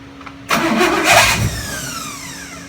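A car engine, fresh after cam break-in, cranks briefly and then catches, rising to a loud revving burst before settling to a steady idle, close by with no talk.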